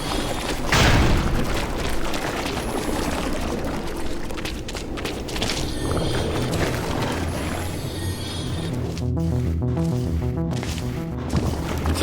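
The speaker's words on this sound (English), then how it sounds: "Careful now, that thing crushes you to death. Its official name is the Aperture Science Cold Work Apparatus." A heavy crushing machine from the video game Aperture Tag, the Aperture Science Cold Work Apparatus, slams with a loud deep boom, then grinds and clanks mechanically, repeating in heavy thuds near the end.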